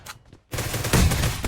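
Unsuppressed Groza assault rifle firing in PUBG Mobile, a loud, dense automatic burst that starts abruptly after a brief quieter moment and continues to the end.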